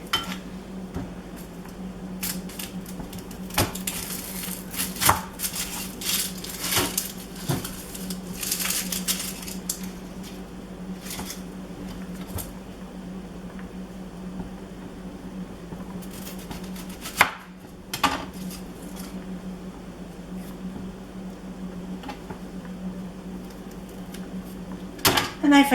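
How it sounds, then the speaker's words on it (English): A kitchen knife thinly slices half of a peeled onion on a cutting board, giving quick, irregular clusters of crisp cuts over a steady low hum, with faint talk now and then. "peel and thinly slice half the onion."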